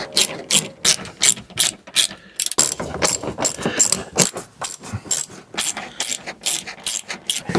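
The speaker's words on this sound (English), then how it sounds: "So this has a lot of T30 Torx bits. All right, so we're going to get those out." A ratchet wrench clicks in rapid bursts while T30 Torx fasteners are backed out of the belly pan cover under a 2012 Ford Focus, sharp close ratcheting strokes repeating with short pauses in between.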